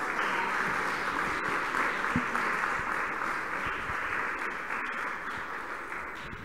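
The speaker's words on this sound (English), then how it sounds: "please give a round of applause to all my friends" A hall audience at a spiritual lecture gathering breaks into long, steady applause, a thick crackle of many hands that holds for several seconds and gradually softens toward the end, with little talk over it.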